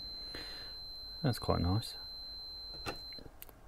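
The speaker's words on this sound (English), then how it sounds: "And we get a little beep." Continuity test beep from a Fluke 196C ScopeMeter, a single steady high-pitched tone held for about three seconds, with someone speaking briefly over it.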